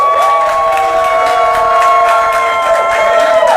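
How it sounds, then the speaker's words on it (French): A crowd greets a unanimous thesis defense verdict with sustained loud cheering and clapping, continuous and close, with shouts rising over the noise. "le tout porté par des applaudissements nourris"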